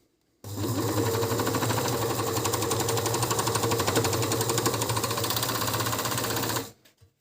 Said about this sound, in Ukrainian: Підставляю під ніж.